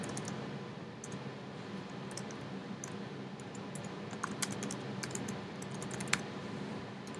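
Keys tapping on a computer keyboard while a title is typed in iMovie, faint scattered clicks over a steady background hiss, with no talking.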